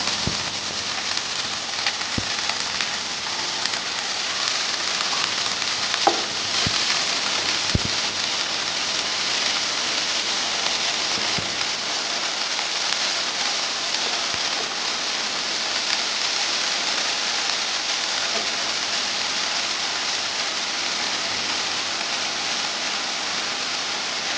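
Spring onion stalks fry in coconut oil in a pan already holding crackled urad dal and mustard seeds, giving a steady, close, rain-like sizzle with scattered faint pops and no talking.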